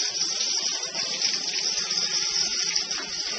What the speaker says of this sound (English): I'll fill that bowl up with water and I'll let it sit there for a second so that the bowl is at least warmish